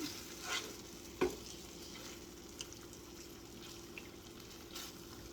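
Chicken teriyaki pieces sear quietly in a pan, a low sizzle running throughout with a few soft scrapes and knocks of a utensil stirring and turning them.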